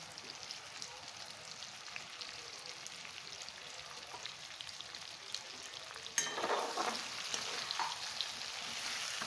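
Eggplant and tomato fry in a pan, a soft steady sizzle with light scraping as the mixture is stirred, growing louder and busier partway through when the stirring picks up.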